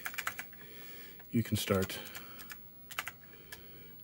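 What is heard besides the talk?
typing on an Apple II computer keyboard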